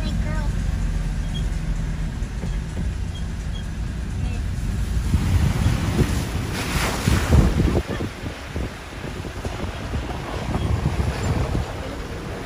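Ocean waves surge during a king tide at Majuro, a continuous rough roar of water and wind buffeting the microphone, swelling louder midway as a bigger wave rushes in, with people shouting and talking nearby.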